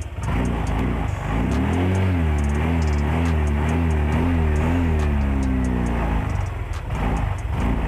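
A car engine revs up from low to high throttle, loud and close, its tone climbing and wavering in steady surges with a faint ticking underneath.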